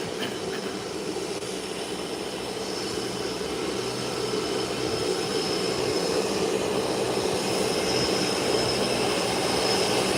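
Turboprop aircraft taxiing to park beside an Embraer 120, a continuous loud whining engine roar with steady hiss and slowly rising intensity, no talk.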